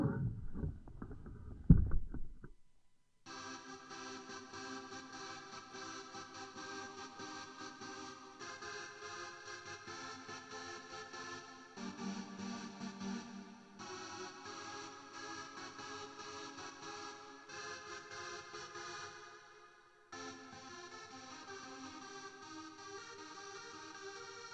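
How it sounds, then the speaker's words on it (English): After a short low thump, a sustained buzzy trance synthesizer made in Massive plays chords that change every few seconds, steady and fairly quiet, with a brief gap near the end. "It's a trance synth, and it sounds like this."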